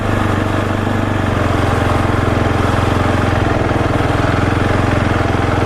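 A KTM 701 Supermoto engine runs loud and close with the throttle held steady, its tone easing and swelling slightly as the rear brake is applied and released, with no talk.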